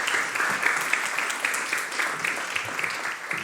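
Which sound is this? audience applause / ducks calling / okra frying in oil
audience applause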